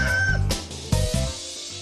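Chickens cluck and a rooster crows close by, loud repeated calls layered over one another with sharp bursts and short pauses, no speech.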